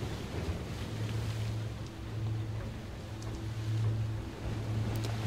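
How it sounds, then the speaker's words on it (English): A yacht under sail at sea in a game scene, with a continuous low rumble of wind and water rushing past the hull. A soft hum rises and falls beneath the steady wash. "We were sailing at 9 knots, the yacht sliding effortlessly across the sea."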